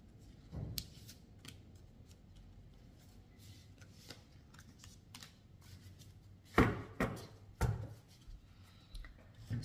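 Tarot cards are shuffled by hand in a quiet room, giving soft papery riffles and taps, with a few louder close bursts of card handling near the end.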